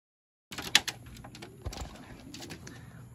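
A racing pigeon coos in short, soft bursts close by, with a few sharper bird calls early on and light ambient rustle in between.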